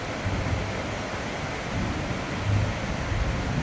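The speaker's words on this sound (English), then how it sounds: "It's coming down with a vengeance. A lot of lightning, a lot of thunder." Heavy storm outside during a downpour with frequent thunder and lightning: steady loud broadband roar of rain and wind with low rumbling swells, no talking.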